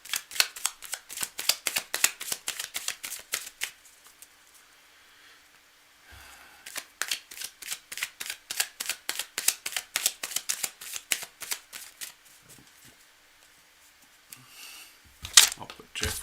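Rapid bursts of crisp card riffling, several shuffles in a row separated by short pauses, close and clear with no talking.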